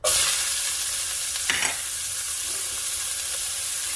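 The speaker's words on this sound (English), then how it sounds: "I'm going to saute some onion." Onions sauteing in a scorching hot pan with leftover oil, heard as a steady loud sizzle throughout, with a brief stir or clatter near the middle and no talking.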